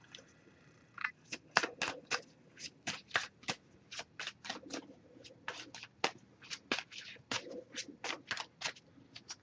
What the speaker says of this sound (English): we're going to give it a few more shuffles, then put the deck down, cut the deck